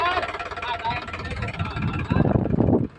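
A tractor engine rumbles in uneven pulses as it is throttled up while reversing on a tree-cutting job, and the revving swells toward the end. Someone talks over it.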